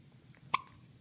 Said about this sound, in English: I don't know if your hiccups are going to go away.